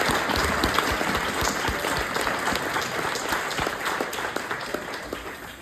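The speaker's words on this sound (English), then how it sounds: "Let's give a big round of applause." Dense, continuous applause from an audience at a music feedback session following a performance, loud and sustained across the whole stretch.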